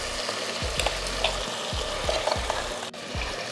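Ground masala stirred into hot oil for a Tamil mutton kulambu, with a steady sizzle under repeated spoon scrapes against the pan, close and fairly loud, with no talk.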